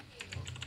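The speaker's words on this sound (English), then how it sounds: "I hear you typing." Quick, soft keyboard typing, a handful of rapid key clicks in a short burst, close by.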